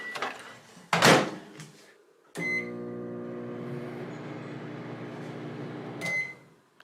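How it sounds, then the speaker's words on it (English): A door clunks shut, then a microwave oven holding broken light bulbs hums steadily for several seconds before stopping with a click. "between the microwave starting and it making microwaves"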